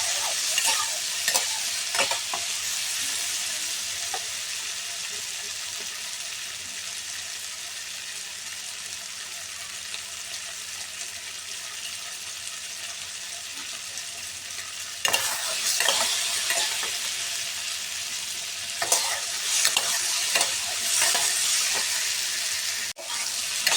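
Ridge gourd and potato frying in a pan, a continuous bright sizzle with intermittent stirring scrapes and clacks that grow more frequent later, close and fairly loud.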